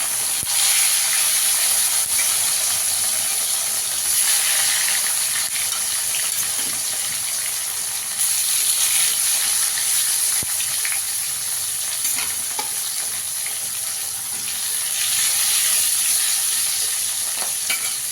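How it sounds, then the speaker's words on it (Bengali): Pieces of bhola fish frying in hot oil, a loud, dense, continuous sizzle with a bright hiss that swells and eases slightly over a long stretch, no voices. "তেলটা ভালো করে গরম হয়ে গেছে, এবার মাছগুলোকে ভেজে নেবো।"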